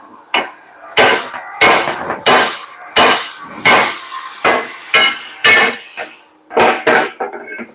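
A steel punch is hammered against the main leaf spring pack of a Nissan MT 3000 truck, about a dozen sharp, ringing metallic blows at a steady rhythm, close and loud.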